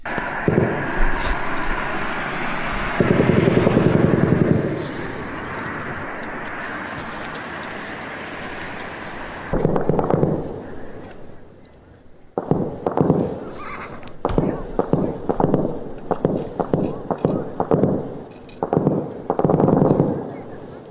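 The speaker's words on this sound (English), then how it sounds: "Here's them last night bombing the shit out of the Kurds." Explosions from Turkish bombing of Kurdish positions sound as heavy bursts and a run of sharp blasts, loud and irregular, with a voice heard early in the clip.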